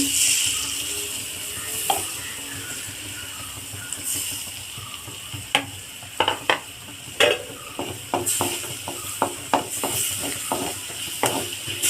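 Beaten eggs mixed into cooked tapioca in a pan, with a low sizzle and a run of quick scraping and tapping strokes of a spoon against the pan growing busier toward the end, close and moderately loud.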